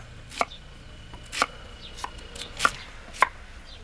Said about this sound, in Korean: 골목마다 도마질 소리가 요란했다는데요. 고구마 써는 소리였다고 합니다